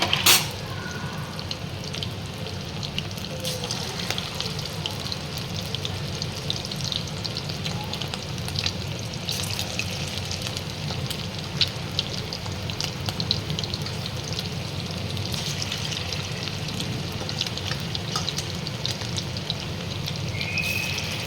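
Chicken pakoras for chilli chicken deep-fry in oil over low to medium flame, a dense, continuous bubbling crackle that stays even and close for the whole stretch.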